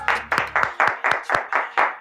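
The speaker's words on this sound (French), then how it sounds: "Ça s'applaudit." A small crowd claps in a steady, even rhythm during an entertainment talk show, about nine loud, sharp claps in two seconds with no voices.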